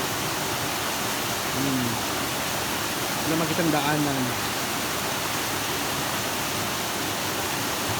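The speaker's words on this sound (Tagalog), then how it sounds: "Kagabi talaga sobrang lakas talaga ng ating tubig dito guys." Strong flood water rushes in a steady, loud broadband roar that fills the whole scene without letting up, with someone speaking briefly over it.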